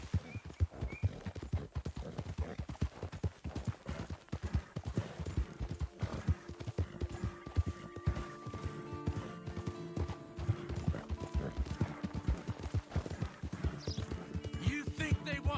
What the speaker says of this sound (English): you're the one tied to the back of a horse